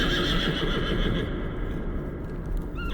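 Horses being spurred on a rocky slope, neighing and whinnying loudly, with steady hoof clatter and a broad rumble underneath, then a brief high whinny near the end.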